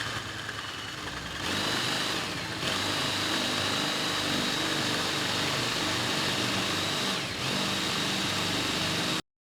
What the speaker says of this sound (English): we're just going to drill about 1 inch in